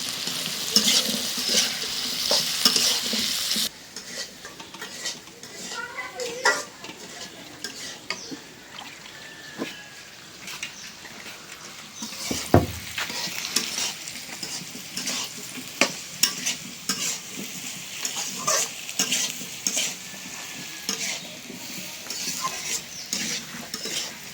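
Potatoes fried with whole spices, including cardamom, in a pan for aloo dum, sizzling steadily while a utensil stirs and scrapes through them in repeated strokes, close and moderately loud with no talking.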